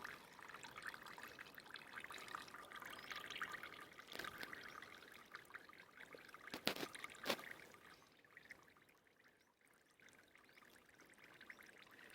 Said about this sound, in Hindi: तो जो इसमें से पानी निकल रहा है इस पानी को आपने फेंकना नहीं है